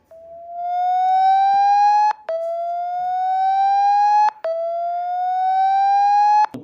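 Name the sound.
siren tone played by phone speaker-cleaning setting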